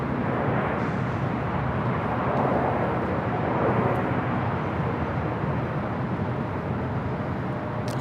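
An Airbus A350-900 airliner in carbon-fiber livery departs Los Angeles LAX for Taipei, its jet engines a loud, steady broadband roar that holds throughout.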